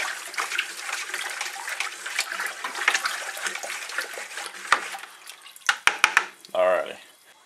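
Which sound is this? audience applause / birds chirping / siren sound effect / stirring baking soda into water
stirring baking soda into water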